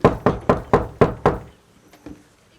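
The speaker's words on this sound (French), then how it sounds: "Ça tape toujours aussi fort à la porte dans cette série." Six loud, sharp knocks on a door in a steady, quick rhythm, fading out, followed by a short quiet stretch with faint rustling.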